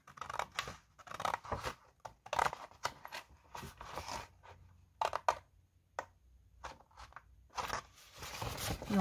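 Paper being cut with scissors for a punch-board memory box, a string of close, crisp snips and crunchy slices in irregular bursts, with short quiet gaps between cuts.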